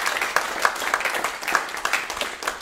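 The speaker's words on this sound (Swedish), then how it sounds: "Jag tycker vi ger dem en varm applåd." Warm applause from a symposium audience at a closing session, a steady patter of many hands clapping that rises and falls slightly over a few seconds.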